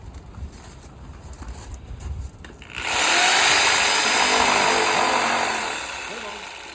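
A reciprocating saw cutting through a wooden joist starts abruptly after a few seconds of quieter background and then roars loudly and continuously before easing slightly at the end.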